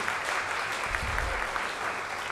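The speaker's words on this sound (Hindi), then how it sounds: "मैं चाहती हूँ कि सलीम भाई के लिए ज़ोरदार तालियाँ हो जाएँ" A crowd at the NTA Awards 2024 open mic event in Delhi's Constitution Club applauds loudly and continuously, a steady wash of clapping with no speech over it.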